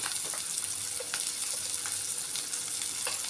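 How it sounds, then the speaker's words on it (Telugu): Drumstick and egg curry with salt is stirred in a pan, giving a steady soft sizzle with light scraping and clinks of a spoon throughout. "రుచికి సరిపడ ఉప్పు వేసుకొని కలుపుకోవాలండి. ఇలా కలుపుకొని ఒక మూడు నిమిషాలు లో ఫ్లేమ్ మీద"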